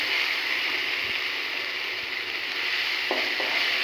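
Garlic frying in a pan for a Bengali home-cooked dish gives a steady, close hiss of oil sizzling, with a few faint clicks of a utensil and no talk.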